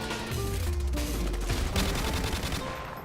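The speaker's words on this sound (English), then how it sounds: "I don't remember a gun that's ever hit this hard and shot this fast" XM-LAR rifle fire in Modern Warfare Remastered, quick bursts of hard-hitting shots close up, with game tones and effects layered over the firing.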